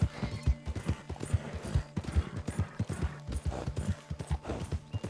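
Horse hooves clip-clop in a quick, even rhythm during riding in the video game Red Dead Online, loud and close throughout with no voices.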